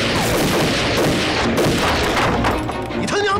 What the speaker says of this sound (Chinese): 皇军听到了枪声